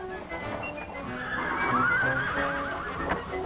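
A horse pulling a wagon neighs with a rising whinny, over a soft background texture and muffled hoof clip-clop, moderately faint, as from an old industrial film.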